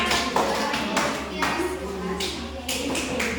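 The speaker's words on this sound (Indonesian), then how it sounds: "kita beri aplaus dulu untuk tim merah" Applause for the red team at a school coaching and supervision session, a few short rounds of clapping and tapping that start and stop in bursts over a steady room hum.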